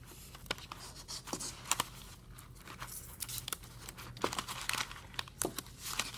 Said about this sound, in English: you're going to take a long section of tape